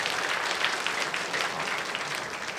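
Church congregation applauding during a Father's Day joint worship service, a steady dense wash of many hands clapping at once, evenly loud throughout with no talk over it.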